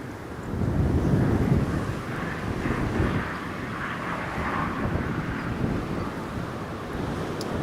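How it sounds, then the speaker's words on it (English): A British Airways airliner takes off from Newcastle Airport on a windy day, its broad engine roar steady and fairly loud throughout, blended with gusty wind buffeting the microphone. "British Airways clear for takeoff,"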